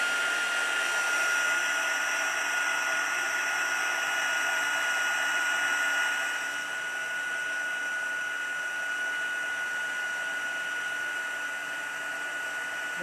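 A heat gun blows hot air over puffy paint on a small Christmas label, a steady loud whooshing hiss that drops a little in level partway through.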